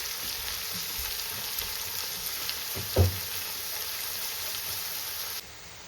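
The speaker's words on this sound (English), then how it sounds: "now I need the onions to get a little bit brown. I'm going to let it cook for a little while." Onions frying in a pan for biryani give a steady, close hiss of sizzling oil with one brief knock about midway, and no voices.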